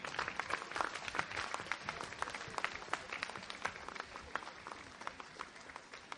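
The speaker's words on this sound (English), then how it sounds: "Please give a big round of applause to number 3" Audience applause for the third-place team at a 2012 Landmark quiz event, a steady, fairly faint patter of many hands clapping throughout with no voices over it.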